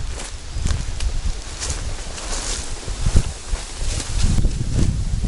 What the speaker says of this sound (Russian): Это ветер.